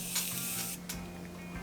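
Morphe Setting Mist in an aerosol can, like a hairspray can, releasing a very fine mist: a few short broadband hisses of spray at close range, with faint mechanical clicks between bursts.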